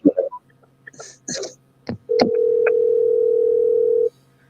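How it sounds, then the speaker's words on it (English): A steady telephone ringback tone drones for about two seconds during a call, loud and close, preceded by brief throat clearing and a few short noises. "Let's see if he answered the phone."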